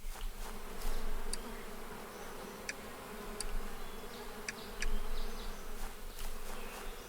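Steady insect buzzing from bees in the APICO bee-breeding video game, a continuous droning hum that swells slightly at moments, with faint scattered ticks and clicks from the game over it.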